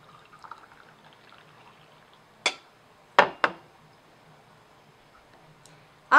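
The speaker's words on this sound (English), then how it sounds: "Or we can serve the tea into the drink cup" Tea is poured from a pot into a drinking cup: a quiet background gives way to a few short, sharp liquid splashes and clinks, spaced apart, with the last cut off at the end.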